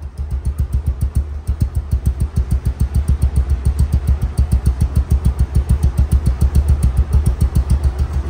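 A Bajaj Pulsar double-disc ABS motorcycle runs close by at a steady idle, its engine thumping in a fast, even pulse. The sound is loud and alone, with no voices.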